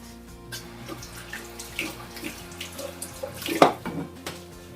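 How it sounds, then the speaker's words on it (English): Tap water running into a sink while hands are washed in a kitchen during sushi making, a steady soft splashing stream with occasional louder splashes, close and moderately quiet. "Let me wash my hands."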